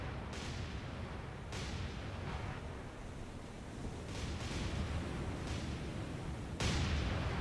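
Naval gunfire in the War on the Sea game during a Pacific battle, with repeated booming shots over a steady roaring background, sharp blasts recurring every second or so and a louder one near the end.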